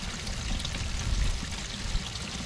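Rainwater pours down steadily in a yard strewn with leaves and pine straw, a soft continuous gush and trickle heard from a short distance, fairly quiet and with no voices.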